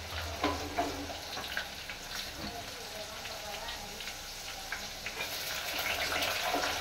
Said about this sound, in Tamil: இது உளுத்தம்பருப்பு வாசத்துக்காக போடுறது. இது கொஞ்சம் பொரியட்டும்.